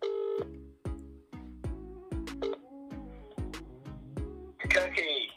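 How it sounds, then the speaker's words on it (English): A phone is dialed before a call, a run of about ten separate tone beeps, each brief and evenly spaced, at moderate volume and close by, ending in a burst of louder noise. "One more phone call to make then to the club captain, team captain, Sam Davies."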